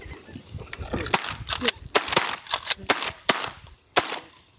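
Shotgun blasts ring out during an opening-day duck and goose hunt in Alberta, Canada, a rapid series of sharp loud reports over a few seconds with outdoor background noise between shots.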